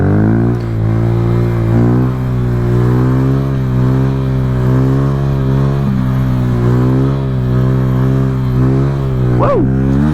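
A Honda Grom motorcycle engine revs loud and close during a wheelie, holding a strong steady drone for several seconds before a sharp rising rev near the end.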